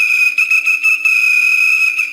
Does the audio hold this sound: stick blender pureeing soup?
no